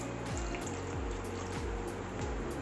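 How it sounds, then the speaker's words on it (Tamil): Water pouring steadily into a pressure cooker holding chickpeas for chana masala, a continuous close trickling stream with no talk. "சன்னா மசாலா பாதி அளவு மட்டும் தண்ணி ஊற்றிடலாம்."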